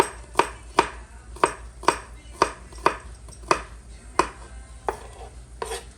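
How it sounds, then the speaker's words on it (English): A knife finely chops garlic on a cutting board in a steady rhythm of about a dozen crisp knocks, close up and moderately quiet, with no voices. "So I'm just chopping up this garlic as fine as I can."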